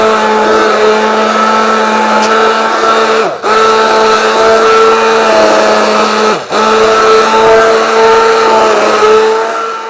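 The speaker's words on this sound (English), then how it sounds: "It's a hand immersion blender." A hand immersion blender whirs loudly through cucumber spinach soup, a steady high motor drone that briefly cuts out twice before resuming, close and continuous with no talking.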